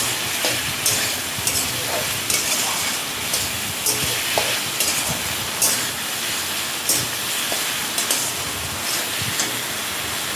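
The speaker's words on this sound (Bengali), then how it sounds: "দিয়ে মশলাটা ভালো মতো কষাতে দেবো।" Masala with two bay leaves fries in a pan, a constant loud sizzle with periodic scraping knocks of a spatula stirring, no speech.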